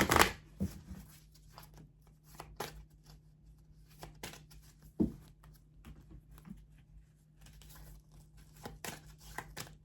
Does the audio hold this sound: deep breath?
no